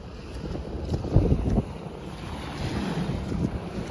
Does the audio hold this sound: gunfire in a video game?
no